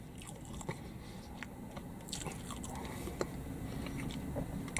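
Close, crunchy chewing of a McDonald's Big Mac with bacon and crisp lettuce, irregular bites and squishes running steadily with no talk.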